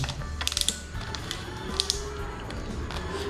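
A Tygot 3366-S tripod's camera mount being tightened, giving a few soft, close ratcheting clicks in two small clusters over a low steady hum.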